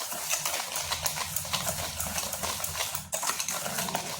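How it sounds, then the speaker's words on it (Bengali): Sugar being stirred by hand into thick palm fruit pulp in a bowl, a steady run of wet, clicking and scraping stir sounds with a brief pause near the end, no talking. "এবার চিনিটা তালের পাঁচের সঙ্গে ভালোভাবে মিশিয়ে নিচ্ছি"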